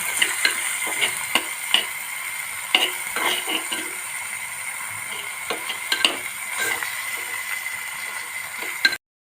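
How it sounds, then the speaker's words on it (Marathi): Whole moong dal with husk being sautéed in a clay pot, a soft steady sizzle broken by frequent scraping stirs and light knocks against the pot, ending abruptly. "मुगाची डाळ सालासकट घेतली आहे आता हे सर्व परतून घेत आहे"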